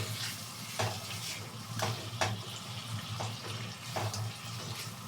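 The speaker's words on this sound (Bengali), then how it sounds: "এখন আমি মাংসগুলোকে এখানে দিয়ে দেবো ভাজা মাংসটাকে" Fried chicken pieces are stirred into sweet chili sauce in a hot pan, sizzling steadily under repeated scraping strokes of a spoon, roughly one every second.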